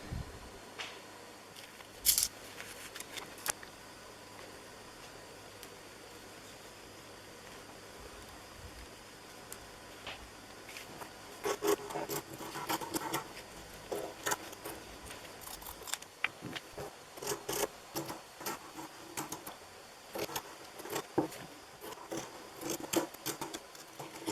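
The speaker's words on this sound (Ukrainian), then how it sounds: "Приступаю до розкрою." Scissors cut fabric pieces for a bucket hat at close range, with intermittent crisp snips and soft rubbing of cloth over a quiet background.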